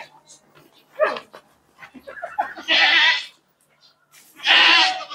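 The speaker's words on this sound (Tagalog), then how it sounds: "Nagpatintero na nga po ang ating kambing." A pet goat on a farm bleats loudly in two long, strained calls, with shorter bleats and noises between them, heard up close.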